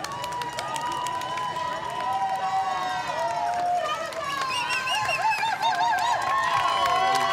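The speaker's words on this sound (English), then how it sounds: "Terrific to hear the cheers and applause." A crowd cheering and clapping for runners at the Sydney Running Festival, a steady mass of cheers and whistles with high voices rising above, while a commentator talks over it.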